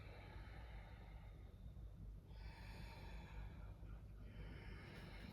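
Loud, powerful Ujjayi yoga breathing, a hoarse rushing breath close by, with one long inhale and exhale cycle over faint background music.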